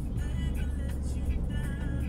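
A car passes close by with a steady, heavy engine and road rumble throughout and a slight rise in revving. The sound is loud and continuous, with no clear pause.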